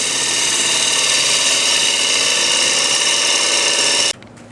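Wood lathe with a gouge cutting cocobolo and peeling off fine shavings, a steady loud whirring hiss that runs without a break, then stops abruptly near the end.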